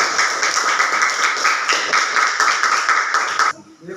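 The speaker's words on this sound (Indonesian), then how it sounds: "Terima kasih, tepuk tangan." Indoor classroom applause from a group of students, a steady dense patter of claps lasting about three and a half seconds before stopping abruptly, fairly loud and close.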